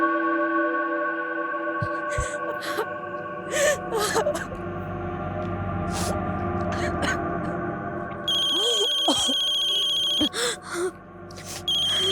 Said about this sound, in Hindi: कब से फोन ट्राई कर रहा हूँ, फोन नहीं उठा रही है